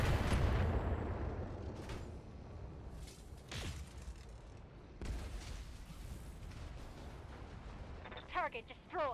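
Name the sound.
mech weapons including PPC firing in video game BattleTech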